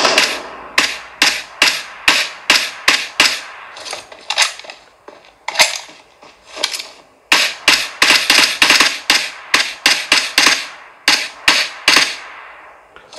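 Suppressed gunfire from PUBG played through a Samsung Galaxy S23 Plus phone speaker: rapid bursts of sharp, clicky muffled shots in quick repeated volleys, loud and close with brief pauses between bursts, no talking.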